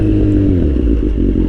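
A Kawasaki Z800 motorcycle idles and rumbles up close, its deep exhaust note broken by rough crackles and pops.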